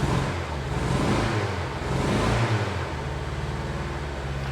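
A Daihatsu 4WD Japanese import, parked for six years, idles and revs after a cold start, its engine droning close and loud with a swell in pitch midway before settling back to a steady run.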